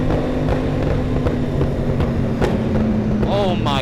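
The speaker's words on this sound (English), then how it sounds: "Let's see if we can hear the pops under the brakes." Stretched BMW S1000RR sport motorcycle on curvy roads, engine roar with short crackling exhaust pops under braking, sharp bursts over wind and engine noise, ending with falling whine of deceleration.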